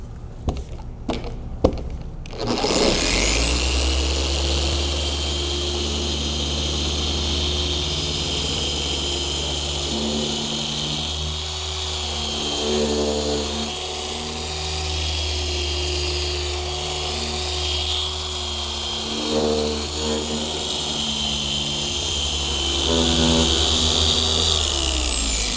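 A car polisher runs at its highest speed working scratch remover into paintwork, giving a loud, steady motor whine and drone that starts after a brief clatter and holds for over twenty seconds, rising slightly near the end.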